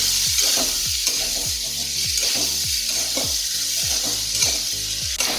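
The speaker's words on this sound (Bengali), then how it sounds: "এবার একটু নাড়াচাড়া করে নেবো আমি" A cauliflower and katla fish curry with melted tomatoes sizzles loudly in a pan while being stirred, with a steady frying hiss and rhythmic scraping strokes repeating about twice a second.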